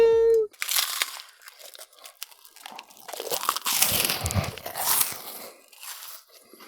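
An Umaibo corn snack being bitten and chewed up close, with loud crisp crunches followed by continuous crackly chewing and crinkling of the wrapper.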